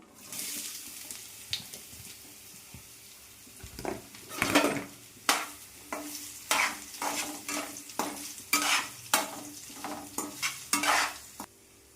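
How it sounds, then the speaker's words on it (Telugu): Carrot and beetroot frying with curry leaves in a pan, stirred in repeated sharp scrapes over a steady sizzle, close and fairly loud, with no talking. "ఇప్పుడు క్యారెట్ బీట్రూట్ వేసుకుందాం"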